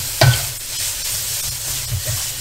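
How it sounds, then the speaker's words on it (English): Mee goreng ingredients with tofu sizzle in a hot wok, a steady close frying hiss with a sharp stir or toss near the start and another softer scrape toward the end. "Okay, you hear the sizzle? That's what you want."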